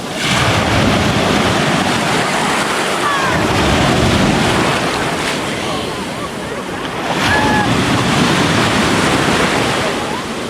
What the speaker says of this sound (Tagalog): Grabe yung alon.